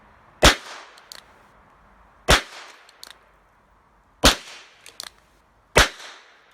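Four sharp, loud gunshots from a Charter Arms Pathfinder .22 pistol fire at an outdoor range, evenly spaced about two seconds apart. Each crack is followed by a short echo and small clinking sounds.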